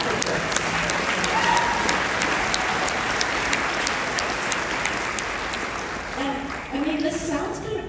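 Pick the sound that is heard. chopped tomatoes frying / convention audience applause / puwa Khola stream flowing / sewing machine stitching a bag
convention audience applause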